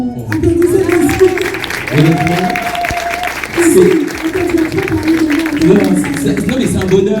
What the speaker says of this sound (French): Applaudissez Kossi